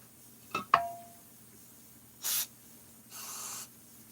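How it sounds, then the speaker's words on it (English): Short hissing bursts of brake cleaner sprayed from an aerosol can to degrease a car part, two separate sprays at moderate distance following a couple of sharp clicks and taps, with no talking. "he's going to clean that with the brake cleaner too."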